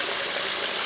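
Steady broadband rush of a stream flowing while water bottles are filled, loud and continuous with no voices.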